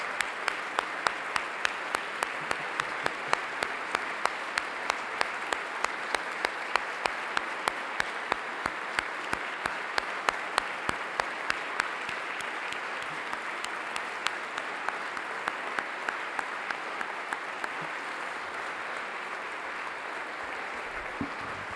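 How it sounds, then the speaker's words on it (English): A large audience at a college dedication ceremony gives a sustained round of applause for the inaugural class, steady dense clapping at moderate distance that gradually thins toward the end. "Let's give them all a round of applause"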